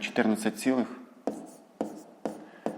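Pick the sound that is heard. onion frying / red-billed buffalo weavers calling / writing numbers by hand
writing numbers by hand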